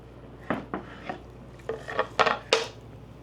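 A knife cuts through a loaf of homemade panettone, giving a series of crisp, scratchy sawing strokes in short bursts that grow louder toward the end, with no talking.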